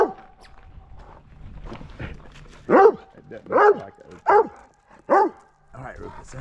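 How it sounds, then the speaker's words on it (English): A dog barks in a series of sharp, fairly close woofs, about five loud barks spaced roughly half a second to a second apart, with faint background sounds and some softer vocal noises between them. "Stop barking."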